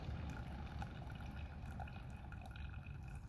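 Coffee pours or brews on a camp stove outdoors, a steady soft liquid trickle with faint dripping and bubbling running continuously, quiet and close, with no talk.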